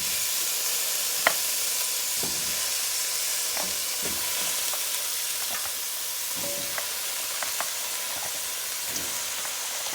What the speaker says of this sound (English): And this is gonna be a nice colorful stir fry.